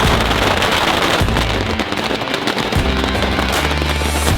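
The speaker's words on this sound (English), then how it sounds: "being shot to the left and right every single corner with these firecrackers." Firecrackers at the Tainan Yanshui Beehive Fireworks Festival burst in a dense, relentless crackle, a loud close barrage that barely pauses before surging again.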